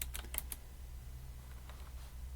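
A few quick computer keyboard key presses, faint clicks clustered near the start with softer taps later, over a steady low hum with no talking.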